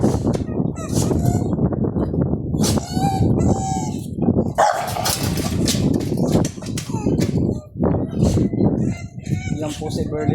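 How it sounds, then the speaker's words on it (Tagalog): Exotic bully dogs bark in short loud bursts at close range, mixed with someone talking over them and poultry calling nearby in an outdoor yard. "Papakita ko sa inyo ngayon yung mga aso dito, mga exotic bully."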